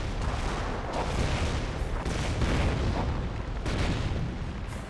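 An artillery barrage rumbles through a Company of Heroes battle, with a continuous heavy roar broken by several deep booming impacts that spread out at mid distance.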